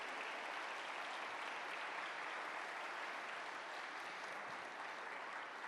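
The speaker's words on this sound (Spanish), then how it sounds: "Denle un fuerte aplauso a mi hermosa esposa." A church audience claps loudly and steadily for a pastor's wife during a renewal-week service, dense applause that stays constant throughout with no break.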